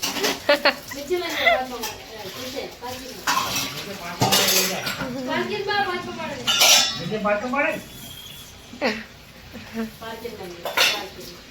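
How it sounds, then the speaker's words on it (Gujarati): Dishes being scrubbed by a mother in a Gujarati home, with clinking utensils and metal pot knocks scattered throughout, close by and under near-continuous conversation. "નીચે વાસણ લઈ જાય ઘસવા"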